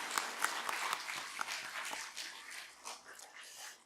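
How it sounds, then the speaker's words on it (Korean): A church congregation applauds with scattered, uneven clapping that rises and tapers off, heard from some distance in a large room. "우리 서로를 위해서 박수 한번 합시다"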